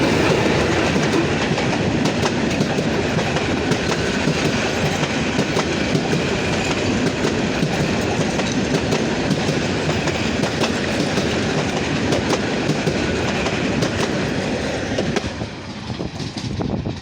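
An old 23rd series locomotive, number 2322, hauls a local train past toward Santahar Junction, a loud, continuous rumble and clatter of wheels and wagons close by for the full stretch, easing slightly at the end.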